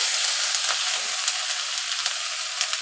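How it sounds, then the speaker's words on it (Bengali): Onion, ginger and garlic paste sizzles steadily in hot oil left from frying, a dense continuous hiss with small crackling pops, close and alone. "আমি ওই একই তেলের ভিতরে একসঙ্গে বেটে রাখছি পেঁয়াজ, আদা আর রসুন একসঙ্গে দিয়ে দিলাম।"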